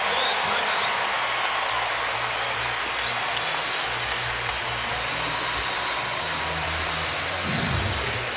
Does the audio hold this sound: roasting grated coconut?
no